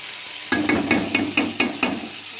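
Food being stirred in a pan while cooking, six or seven evenly spaced scraping knocks of a spoon against the pan over a faint sizzle, close and fairly loud, with no voices.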